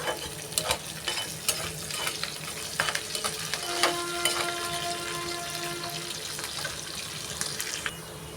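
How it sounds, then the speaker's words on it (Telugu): Onion, green chili and curry leaves frying in a pan for a watermelon-rind curry, a moderate continuous sizzle broken by crisp crackles and stirring clinks, heard alone at close range. "ఉల్లిపాయ, పచ్చిమిర్చి, కరివేపాకు బాగా వేగాయి."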